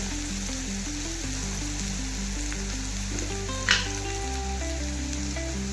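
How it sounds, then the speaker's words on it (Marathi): Onion frying with turmeric in a pan for a bhendi fry: continuous close sizzling and crackling, with a single brief stirring clink partway through, no talking. "कांदा बघा अशा प्रकारे तळून घ्यायचा"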